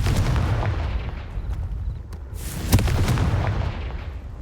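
Spell explosions in Hogwarts Legacy, a run of deep, loud booming blasts and thuds following one another closely, with a sharper burst partway through and no speech.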